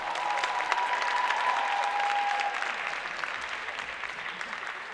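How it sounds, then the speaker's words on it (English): An audience at a dance performance event claps for the home dance team, a dense, steady wash of applause that slowly thins out, with a faint tone audible briefly near the start. "Let's give our home team another round of applause."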